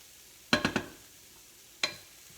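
Onions and garlic stirred in a dry pan with no oil give a quick burst of three scraping clatters, then a single scrape after a pause, close and clear with no voices.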